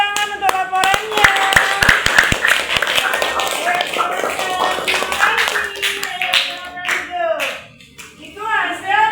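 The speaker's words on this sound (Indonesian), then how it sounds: "Tepuk tangan untuk laporannya." Applause in a school classroom as children clap after a group's report, a loud burst of rapid claps close by, mixed with children's voices and chatter that continue as the clapping thins out.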